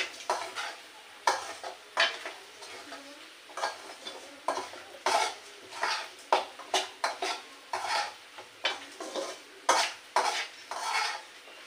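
Vegetables stir-fried in a pan with quick repeated scrapes and clinks of a metal spoon against the pan over a faint sizzle, close up and rhythmic, with no voices.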